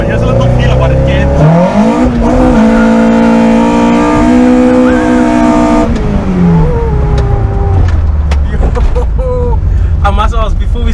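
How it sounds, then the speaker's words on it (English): The C20XE engine of a tuned 170+ kW Opel Kadett GSi revs hard and loud, climbing, holding high and then dropping back. It is close and constant, with a voice talking over the end. "where are you revving to?"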